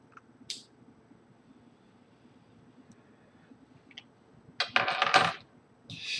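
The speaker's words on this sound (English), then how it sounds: "Hold on, I just dropped my keys." A set of keys drops and rattles against a hard surface, a brief bright metallic jangle near the end following a few faint clicks, close by and loud against a quiet room.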